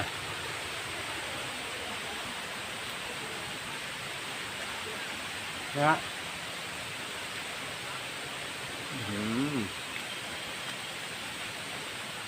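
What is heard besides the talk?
small waterfall flowing down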